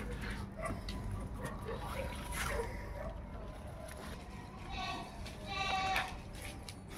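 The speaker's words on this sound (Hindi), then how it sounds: "ये देखिए अजमेरा बकरी है, प्योर क्वालिटी में अजमेरा बकरी है" An Ajmera goat for sale near Vattepally, Hyderabad, bleats a few times amid a noisy outdoor setting, the calls moderately loud and partly masked by background chatter and other animal sounds.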